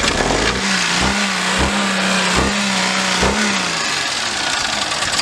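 A rebuilt, previously wrecked Impala car engine revving steadily at a high idle with a rough, knocking pulse, then dropping off near the end, loud and close with no talk.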